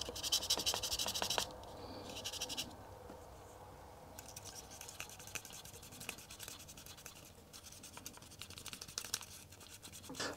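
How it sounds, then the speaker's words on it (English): A fiberglass pen scrubs the metal contacts of a joystick, making close, dry scratching strokes in uneven bursts, loud at first, then a quiet pause, then rougher scraping again. "Or perhaps it's better to use this fiberglass pen."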